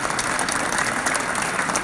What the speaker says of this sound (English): That deserves a round of applause within itself.